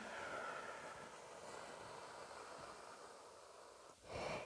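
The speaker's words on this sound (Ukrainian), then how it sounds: "Видих губи трубочкою." A person blows a long, soft breath out through pursed lips during a morning breathing exercise, a faint airy hiss that holds for several seconds before a short stronger puff near the end.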